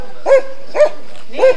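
A dog gives three short, evenly spaced yips or barks, fairly close and clear, with no speech over them.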